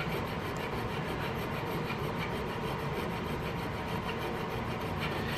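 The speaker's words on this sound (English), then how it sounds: "So I'm gonna switch over to this really fine, really small file here." A small, fine metal file works a flintlock Hawken rifle's rear sight dovetail, giving a steady, continuous close rasping scrape of even loudness throughout, with no talking.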